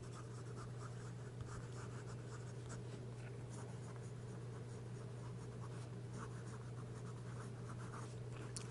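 A Montblanc fountain pen with an oblique medium nib scratches softly across paper in quick strokes, faint and close over a steady low hum.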